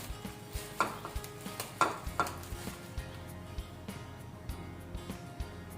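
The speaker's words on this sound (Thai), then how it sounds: "พอ เดือดแล้วเราก็จะใส่ปลานะคะ" Fish added to boiling curry with sour bamboo shoots, a series of close clinks and scrapes of a utensil against the pot over a low bubbling simmer, with no voice.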